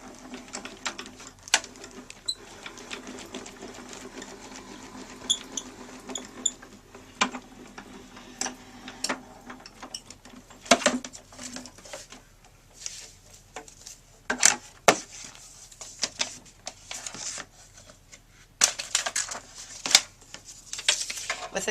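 A Spellbinders Grand Calibur die-cutting machine cranks paper through in a long run of ratcheting, clicking gear noise with irregular louder clacks, while a person talks now and then.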